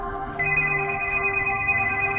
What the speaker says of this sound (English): as my phone vibrates on the nightstand.